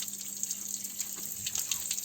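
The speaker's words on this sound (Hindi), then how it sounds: "यहाँ पे हमेशा कंटिन्यू पानी बहते रहता है।" Spring water streams steadily from a stone naula spout in a Himalayan village, a continuous close splashing gush with a faint low hum underneath and no voices.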